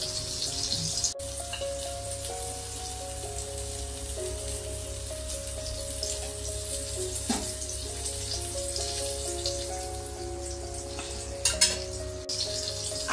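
Rohu fish pieces fry in hot oil on a tawa, a soft continuous sizzle with light crackling pops and occasional sharper spatters, fairly quiet and steady throughout.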